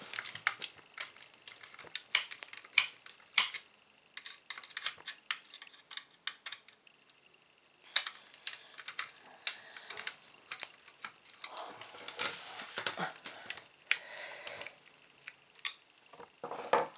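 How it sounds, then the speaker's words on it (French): Small screws being driven by hand into the plastic radiator of a DeLorean model kit, giving a run of quick dry clicks and ticks close up, irregular and sometimes in bursts, with no talking. "Maintenant que mes deux vis sont engagées dans le radiateur, je vais pouvoir les serrer."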